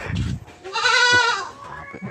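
A Peranakan Etawa goat of the Kaligesing type gives one loud, close, wavering bleat lasting about a second, with some rustling before and after it.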